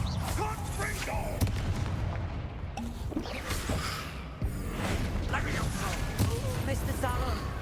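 Spell blasts in the Hogwarts Legacy video game, repeated booming explosions and crackling impacts over a dense rumbling game soundtrack, with a voice speaking at times.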